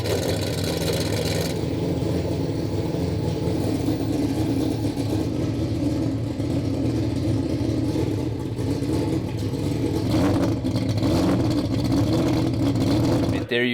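An all-wheel-drive four-rotor Mazda RX-7 idles rich at around 1,000 RPM, giving a loud, steady, rough rumble throughout, with people talking over it.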